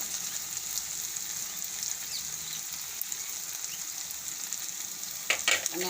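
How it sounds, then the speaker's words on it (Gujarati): Cumin seeds frying in a pan for Maharashtrian thecha chutney, a continuous soft sizzle with a few sharper crackles and clinks near the end, steady and fairly quiet with no talking. "હવે આપણે આમાં જીરું નાખી દેવું."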